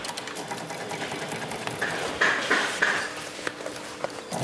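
Industrial sewing machine stitching a felled seam on denim jeans, the fabric fed through a guide, giving a steady, close mechanical whirr with a high rattling chatter in the middle of the run.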